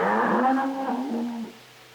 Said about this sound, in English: Here in the Pampas, too, are the great herds of Argentine cattle